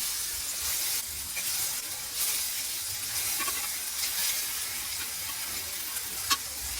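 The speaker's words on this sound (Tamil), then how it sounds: "ஊற வச்சிருக்க பைனாப்பிள் பீசஸை வரிசையாக ஸ்ப்ரெட் பண்ணி மீடியம் ஃப்ளேமில் ஒரு 7 to 8 மினிட்ஸ் டோஸ்ட் பண்ணலாம்" Soaked pineapple slices toast in butter or ghee in a pan over medium flame, giving a steady soft sizzle and hiss close by, with one brief clink near the end.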